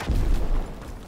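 A grenade goes off in a video game, a single deep, booming blast that swells and then trails away over about a second.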